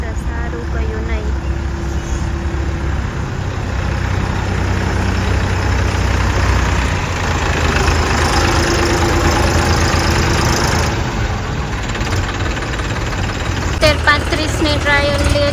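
A 10-35 tractor engine idles steadily through a trial run, a continuous low rumble with slight knocking throughout, while people talk over it.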